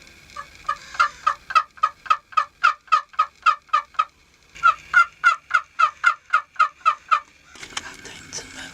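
A wild turkey gobbles in two long runs of rapid, evenly spaced rattling notes, loud and clear, separated by a short pause, with a brief burst of other noise at the end.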